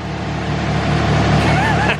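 A new Case tractor's engine runs loud and steady at close range, a continuous low mechanical drone with a voice faintly present underneath.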